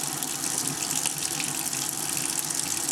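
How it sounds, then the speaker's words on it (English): Hot water runs steadily from a tap into a sink in a tiny house, a continuous bright splashing hiss at close range with no voices, lasting throughout. "in the sink I've got the hot water running"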